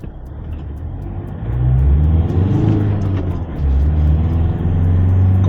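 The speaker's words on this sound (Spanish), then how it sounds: "el coche entrega la potencia desde muy bajas vueltas, salimos rápidamente" A 2025 Foton Tunland G7 pickup truck accelerates from low revs, its engine rising in a loud, close rumble. The engine briefly eases and then climbs again, with no talk over it.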